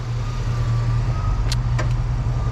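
A 1985 Chevy K10 short bed truck with 53k miles idles smoothly, a low, even engine hum close by, with a few faint clicks partway through.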